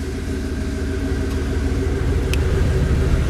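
A 1993 Ford F-250 pickup with 148,000 miles runs at idle, a loud, steady low rumble heard close up without ticking or misfire and no voices over it.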